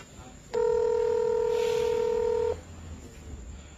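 A single steady telephone keypad tone rings out for about two seconds, loud and clear over faint room noise, then stops abruptly.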